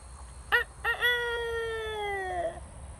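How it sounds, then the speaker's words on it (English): A young rooster crows close by: two short clipped notes, then one long sustained call that trails off, loud and clear against a quiet yard with no talking. "Cock-a-doodle-doo, little chick."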